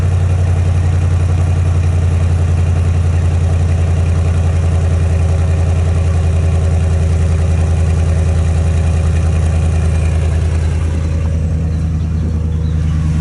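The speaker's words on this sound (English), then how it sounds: "Admittedly, it does sound good, even for being aftermarket." A car engine idles steadily with a deep, throaty rumble and low burble, continuous and fairly loud, settling slightly near the end.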